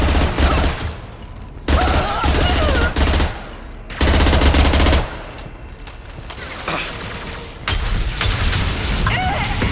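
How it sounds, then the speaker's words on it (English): Heavy weapon fire in Mass Effect 2 lands as a high-impact shot, with loud booming bursts and rapid gunfire in repeated waves over a dense rumbling battle backdrop. "Firing a high impact shot."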